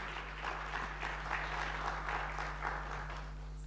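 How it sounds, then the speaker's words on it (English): Audience applause at a displacement forum session, a steady, soft wash of many hands clapping for a few seconds, distant-sounding over a constant low hum. "A round of applause, ladies and gentlemen."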